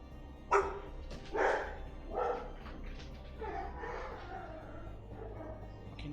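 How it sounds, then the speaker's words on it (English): Several dogs bark in short, separate bursts, fairly close and alone, over a steady low background hum. "now they're barking"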